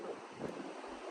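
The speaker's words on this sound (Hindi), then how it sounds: "ठंडी मजे की हवा चली है ना समंदर पे" Cool wind gusting across the microphone at a seaside beach, with rolling ocean waves washing in beneath it as a steady, close roar; no voices.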